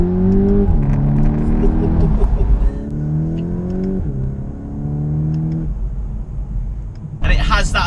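A 300 bhp VW T-Roc R engine revs up in rising sweeps after downshifting, dropping pitch between gear changes, loud and close, with a voice talking over it near the end.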